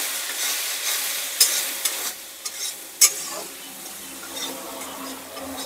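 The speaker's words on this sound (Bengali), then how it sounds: "মশলাটা একসাথে খুব ভালো করে নেড়ে চেড়ে নিলাম।" Spice paste of chilli paste, cumin, coriander and turmeric stirred in a frying pan, a steady close sizzle with scraping strokes and a few sharp clicks of the spoon against the pan, no voices.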